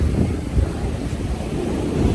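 Large ocean waves churning and breaking nearby at Mypadu Beach, a loud continuous low roar with wind buffeting the microphone.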